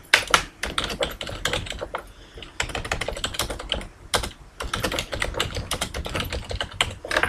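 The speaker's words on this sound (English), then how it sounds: "I'll type in my label first," Fast, steady typing on a computer keyboard while working in Microsoft Excel 2010, with dense, close key clicks coming in bursts with short pauses.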